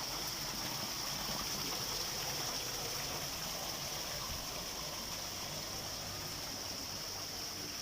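Steady rushing water runs throughout, a constant broadband wash like a flowing current, moderately loud with no voices.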